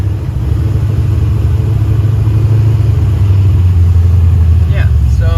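A car engine fitted with Terminator X fuel injection runs nearby with a loud, steady low rumble that holds through the whole stretch without any revving.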